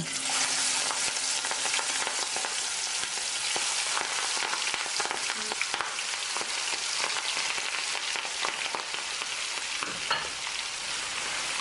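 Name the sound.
shrimp frying in a wok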